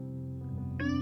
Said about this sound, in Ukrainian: Воно дивилось Петсонові просто у вічі і пищало